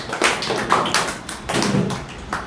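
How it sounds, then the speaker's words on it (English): An audience claps for a speaker at an academy event, a steady patter of hand claps from several people in a room, moderately loud with irregular bursts, no talk. "So big applause for Ankita sister."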